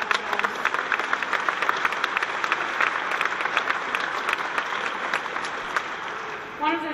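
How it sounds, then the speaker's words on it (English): An audience claps warmly at a museum exhibition opening at the National Museum of Australia, a dense, sustained round of applause close by that fades out at the end. "a big round of applause."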